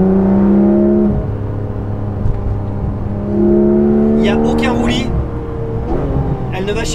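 Porsche GT3 RS with a 4-litre engine, revving and roaring up through gears from inside the car, with loud rising engine tones, a drop between pulls, and a sharp burst of crackle.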